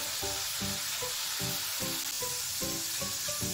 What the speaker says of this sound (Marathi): हलकासा ब्राऊन कलर होईपर्यंत आपल्याला चिवडा तळून घ्यायचा आहे।